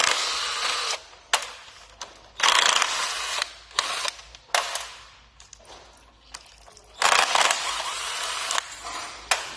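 Bolts come undone on a Chevrolet Captiva automatic transmission in a repair shop, with repeated loud bursts of a power impact tool separated by short pauses and a few metallic clicks, and no speech.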